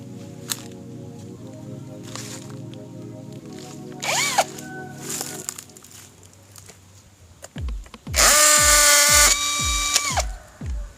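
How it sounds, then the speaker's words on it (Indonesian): A brushless cordless impact drill starts and stops in short bursts, then runs hard in a loud, grinding hammering burst boring into concrete before cutting out, with quieter rattling between. "sekarang saya akan mencoba mengebor cor-coran ya"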